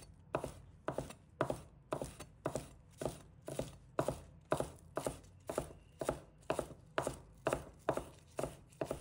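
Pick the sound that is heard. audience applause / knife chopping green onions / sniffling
knife chopping green onions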